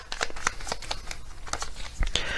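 Tarot message cards shuffled by hand, a series of rapid papery riffles and soft flutters at close range, with no one talking.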